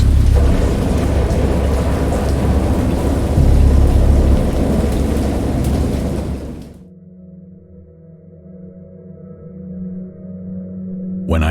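A thunderstorm with heavy, close rain and rolling thunder for about six seconds, then cutting to a low, quieter rumble with a faint tonal hum, no voices present.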